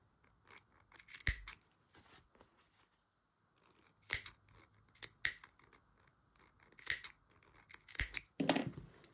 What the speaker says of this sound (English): I want to just make sure I snip the neck part.